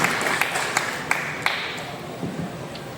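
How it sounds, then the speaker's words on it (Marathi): Audience applause at a Marathi film event, a steady wash of clapping from a crowd with a few sharper individual claps standing out, moderately loud and without talk. "जोरदार टाळ्या"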